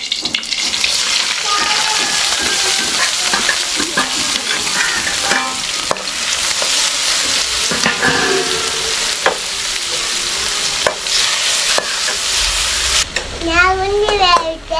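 Onion, tomato and ginger sautéing in a pan in a Kerala village kitchen: a loud, close sizzle with steady scraping and stirring, and brief voices near the end.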